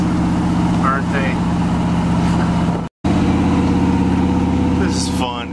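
A 1966 Chevy C10 pickup truck cruises on back roads, its engine a steady, loud, close drone throughout with a brief drop-out midway, and faint voices at moments over the motor.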